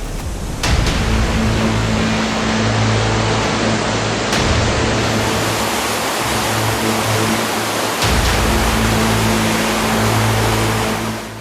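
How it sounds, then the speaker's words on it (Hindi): A large waterfall in a forest in Chhattisgarh, with water falling from a height of about 150 feet, roars as a loud, steady wash of broadband noise. It continues without a break, with no voices over it. "ये तो बहुत बड़ा झरना था।"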